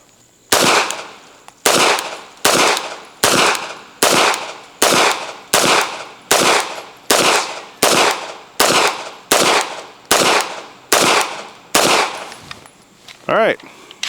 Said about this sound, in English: And now we'll do the P09c Nocturne on the bottom V8 repair center. Again, double action first shot.